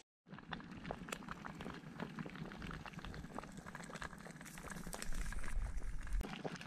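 A Lixada woodgas stove burning at a budget wild camp, a steady low roar with dense crackling and popping that swells slightly louder toward the end, close by and without speech.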